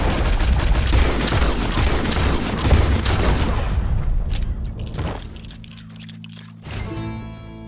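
Rapid gunfire bursts in Red Dead Redemption 2, loud and dense for several seconds before trailing off into quieter rumbling and a final thud.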